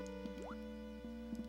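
In Super Mario Bros. 3, a frog suit hops through a water level, making several short rising chirps spaced unevenly over steady background game music.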